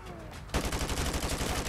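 Rapid automatic gunfire in Modern Warfare 2 Remastered breaks out suddenly after a quiet moment, a dense, loud, steady burst of shots that carries on to the end.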